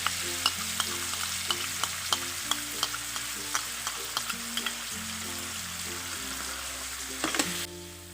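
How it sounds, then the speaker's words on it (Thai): Pork bones are stir-fried with salt and oyster sauce in a pan, with a steady close sizzle broken by regular scraping and clacking strokes of the spatula. "ผัดทุกอย่างให้เข้ากัน ผัดจนกระดูกหมูเขาสุกก่อนนะคะ"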